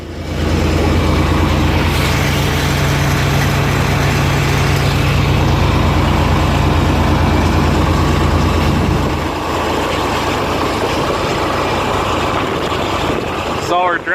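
A vehicle engine runs steadily while dragging a gravel farm yard, a loud low rumble that drops in level partway through, with a person talking over it.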